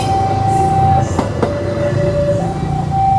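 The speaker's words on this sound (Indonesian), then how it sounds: "itu dia kereta api Sangkuriang berangkat dari stasiun Probolinggo" The Sangkuriang passenger train departs Probolinggo station, its wheels rolling loud and close with a sustained high squeal and brief sharp clanks as the carriages pass.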